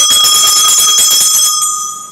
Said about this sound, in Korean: 종 치도록 하겠습니다.